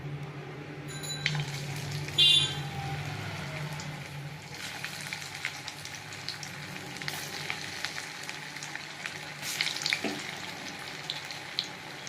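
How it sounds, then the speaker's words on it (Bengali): Shrimp fritters (chingri bora) fry in hot oil in a pan, a quiet, continuous sizzle with occasional soft crackles and a brief louder clatter near the start. "আমার তেল গরম হয়ে গেছে, এবার আমি বড়াগুলো ছেড়ে দেবো।"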